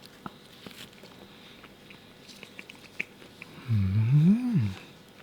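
Someone chews homemade hand-kneaded whole wheat multigrain bread, giving soft, close, scattered mouth clicks, followed by an appreciative hummed voice.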